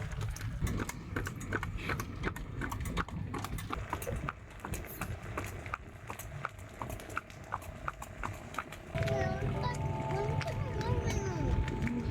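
Horse hooves clip-clop steadily in a close, even rhythm during a horse-drawn carriage ride, with background murmur and a louder rumbling stretch near the end.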